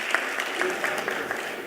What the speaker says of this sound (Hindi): बड़े भाई, एक बार जोरदार तालियां हो जाए